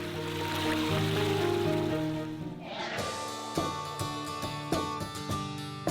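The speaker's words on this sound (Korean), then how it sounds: "무더위도 한순간에 씻겨줄 만큼 시원한 계곡물이 굽이굽이 흐르는 명산을 품은" A cool mountain valley stream in Miryang, South Korea, rushes with a steady broadband wash for about three seconds, with music playing throughout and coming to the fore as the water sound fades.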